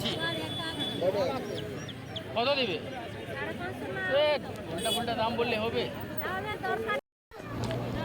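Chickens cluck and call repeatedly amid a busy crowd of voices and chatter at a village poultry market in West Bengal, with a brief dropout near the end.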